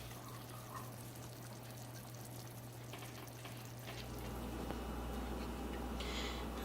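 Chicken Florentine soup at a full boil in a pot on the stove, a steady bubbling, sizzling wash with a low hum beneath that grows a little louder partway through, no talking.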